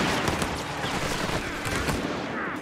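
Dense gunfire from a Company of Heroes 3 battle in the Italian campaign: rapid bursts of machine-gun and rifle shots rattle in a continuous fusillade, loud and close.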